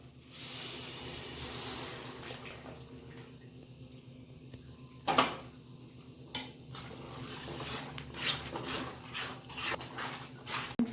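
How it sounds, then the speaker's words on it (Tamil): Tamarind water splashes and trickles into a cooking pot for a curry, with faint clinks of metal vessels and soft liquid sounds, quiet and close without talk. "புளி தண்ணி 50 கிராம் நான் கரைச்சி வச்சதை இதில் ஊற்றுதேன்"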